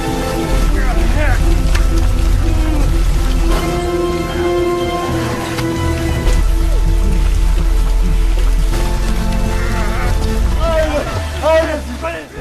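Steady rain falls in a film scene of a collapsed apartment building, a dense continuous patter under a loud low rumble and music, with faint voices and scattered sounds layered over it.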